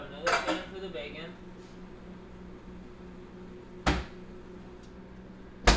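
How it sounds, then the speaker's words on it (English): A pan being picked up in a kitchen while cooking salmon and bacon: a cluster of metallic clinks and clatters at the start, then two sharper knocks later over a quiet background hum. "So grab another pan for the bacon."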